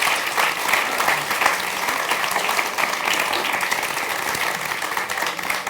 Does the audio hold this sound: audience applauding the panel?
yes